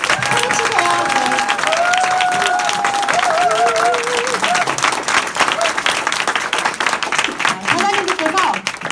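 A seminar audience claps loudly and continuously at a sales group's closing session, with cheering and voices mixed through the applause and a few whistles or shouts riding on top.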